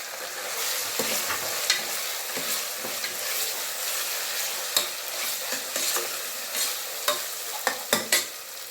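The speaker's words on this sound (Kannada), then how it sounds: "ಎಣ್ಣೆಯಲ್ಲಿ ಶುಂಠಿ ಬೆಳ್ಳುಳ್ಳಿ ಪೇಸ್ಟ್ ಈರುಳ್ಳಿ ಚೆನ್ನಾಗಿ ಮಿಕ್ಸ್ ಆದಮೇಲೆ ಒಂದು ಟೊಮೆಟೊನು ಹಾಕ್ತಾ ಇದ್ದೀನಿ" Tomato tossed into hot oil with ginger garlic paste and onion for a cow pea masala curry, sizzling steadily and close while a spoon stirs with repeated sharp scrapes and clicks against the pan.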